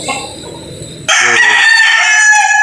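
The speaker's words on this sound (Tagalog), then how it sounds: "Ito po yung mga ilalaban niyang manok." A gamecock crows loudly and close by, a long, bright cock-a-doodle-doo that starts partway through after a quieter stretch of background noise.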